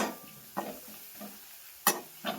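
Spices and turmeric are stirred in a pan, with a few soft scrapes of the spoon over a low, steady sizzle and one sharper clink near the end.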